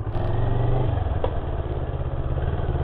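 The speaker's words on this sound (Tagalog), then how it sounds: "bumabiyahe na tayo gamit natin ng NK400" A Kawasaki-style NK400 motorcycle runs at a steady, loud, close engine drone with a rough low thrum and a short shift in pitch early on, while a faint clatter rises over the hum.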